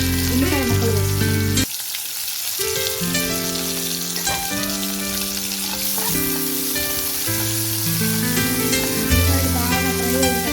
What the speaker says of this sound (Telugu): తాలింపు గిన్నెలు కొంచెం వేగిన తర్వాత ఉల్లిపాయ ముక్కలు వేసుకోవాలి